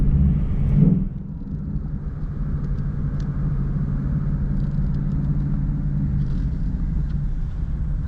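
A Ford Mustang Mach 1 with a 10-speed automatic driving in daytime, a steady low engine and road rumble heard from inside the cabin, with a brief louder swell near the start and then an even drone.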